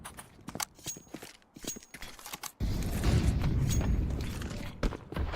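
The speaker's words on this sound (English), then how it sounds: "That's gonna be the nade to open it up." Grenade exploding in a competitive multiplayer shooter match, a sudden loud blast that cuts in midway and sustains as a rumbling roar after quieter, scattered clicks and footsteps.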